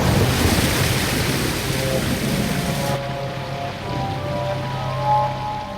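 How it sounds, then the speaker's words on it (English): Rainwater from a flash flood rushes through deep gullies in the rocky limestone Judean desert, a loud broad roar that drops to a lower, steady churning about halfway through. "torrents of rainwater flow from the Judean mountains through the valleys of the desert"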